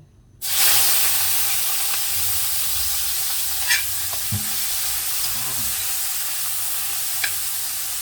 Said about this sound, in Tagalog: Medyo mainit yung mantika. Tayo magisa na. Ito po yung kamatis.